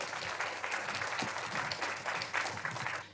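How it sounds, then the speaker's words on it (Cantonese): Audience applause welcoming the speaker at a public health talk on pancreatic cancer in Hong Kong, a steady, dense clatter of many hands clapping that carries on for the whole stretch. "咁我請大家嘅掌聲咧"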